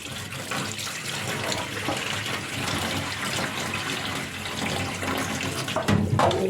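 Tap water runs steadily while taro is washed in a sink, a loud, continuous close splashing rush with faint handling noise and no talk.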